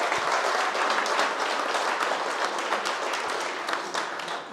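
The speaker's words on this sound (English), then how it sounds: "please, once again, give a round of applause to our wonderful presenters" A room full of people applauds at a whiskey tasting evening, a dense, even roar of clapping hands that holds steady for several seconds and then eases slightly toward the end.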